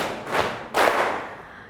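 Two loud group strikes of body percussion, thigh slaps and claps from a class during an ice-breaker game, each a broad burst that fades into the room.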